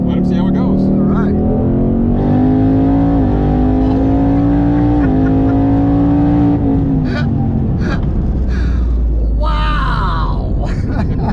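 Twin-turbo Ford Mustang driving, its engine drone rising and holding steady for several seconds before easing off, close and loud, with people talking over it and a brief whoosh near the end.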